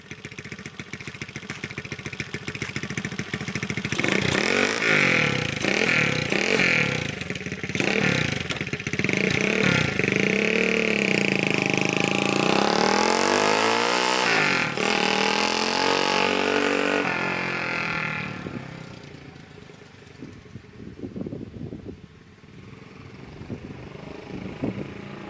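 A Honda CT70 minibike with a swapped-in Lifan 125cc 12-volt engine rides off, its small single-cylinder engine revving up and down through repeated gear changes for about twenty seconds before dropping away to a quieter idle-like putter.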